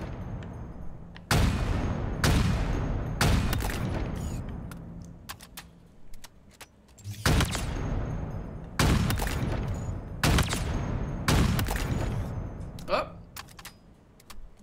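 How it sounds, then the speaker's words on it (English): Bursts of gunfire from a weapon drill in the video game Halo Infinite ring out in short volleys with pauses between them, loud and close, with a voice talking faintly at times. "I swear a lot of the time I'm only firing 3 bullets"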